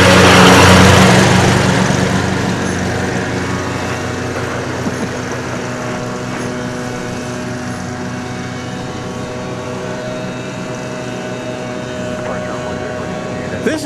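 A Delta airliner bound for Salt Lake City rolls at DFW Airport, its jet engines giving a broad, steady roar that starts louder and settles into a constant hum, with voices talking over it.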